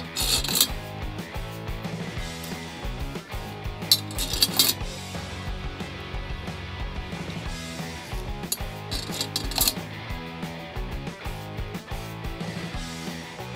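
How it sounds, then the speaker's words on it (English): Metal tension rod bolts being fitted through the rim and lug holes of a snare drum, with quick scraping, clicking and rattling handling sounds in irregular bursts close by. "I'm just going to put the bolts through all the holes, the lugs through all the holes."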